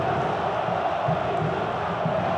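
Portuguesa (Lusa) football supporters fill a stadium during a 2008 Brazilian league match against Flamengo, a steady, dense crowd roar that stays loud and unbroken throughout.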